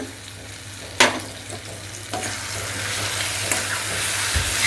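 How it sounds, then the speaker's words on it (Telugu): Chili powder being stirred into gongura frying in a pan, a steady sizzle with a few sharp scrapes and clinks of the spoon against the pan, close and without talk. "కారం వేసి బాగా ఇదంతా ఇలా కలపాలి"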